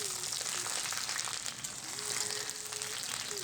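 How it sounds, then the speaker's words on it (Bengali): Jujube pickle frying and being mixed in a pan, a steady close hiss of sizzling oil with faint scraping, a low hum running beneath. "তো এবার দেখুন সব কিছু আমি একটু মিশিয়ে নিচ্ছি ভালো মতো একটু হালকা একটু বলতে পারেন ভেজে নিচ্ছি"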